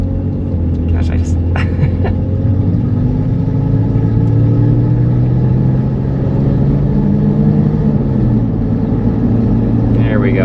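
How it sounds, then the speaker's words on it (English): Tire roar from a 2001 Mercedes ML320 cruising at about 55 mph on an Oregon highway, a steady low rumble and drone that holds evenly throughout with brief faint higher noises near the start. "But those tires make a lot of noise."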